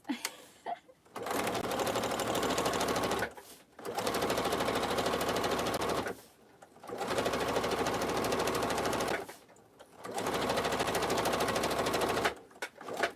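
A sewing machine stitches a tote bag in four long, steady bursts of rapid mechanical whirring, each broken by brief quiet pauses, loud and close with no talking.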